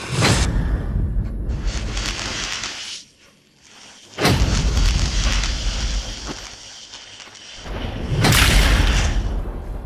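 Fireworks bursting in a series of loud booming blasts, a heavy rumbling explosion followed by a brief lull, then another big burst and a later crackling blast, all close and powerful.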